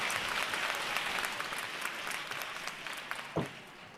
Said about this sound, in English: you all deserve a round of applause for inviting your friends